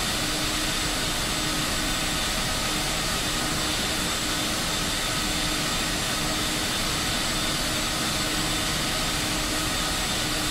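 Etihad Airbus A380 jet airliner taking off from Istanbul airport, a loud, constant roar of engine noise throughout.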